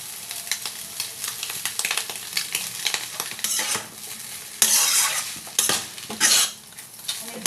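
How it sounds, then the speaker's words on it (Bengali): Boiled chow mein noodles fry in hot oil and are stirred, giving a continuous crackling sizzle with metallic utensil scrapes and a few louder surges of frying. "এই চাউমিনটা কিন্তু এবার আমি অল্প অল্প করে এই তেলের মধ্যে দিয়ে দেবো।"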